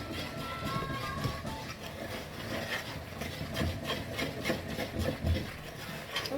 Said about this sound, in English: use your egg whisk to stir everything together, just so everything mixes